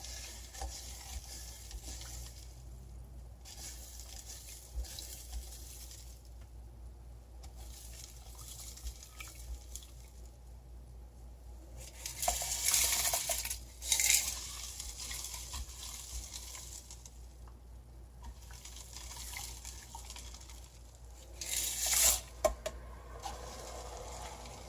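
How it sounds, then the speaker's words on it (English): Potassium hydroxide reacting as it is added to liquid soap, a quiet continuous fizzing sizzle with a few louder crackling bursts, close but faint. "I want you to hear the reaction, to see how very different potassium hydroxide and sodium hydroxide sound."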